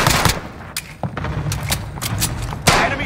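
Gunfire in a police-themed video game match, sharp shots scattered across a busy firefight with thumps and bursts at irregular intervals, a few louder cracks standing out over continuous background noise.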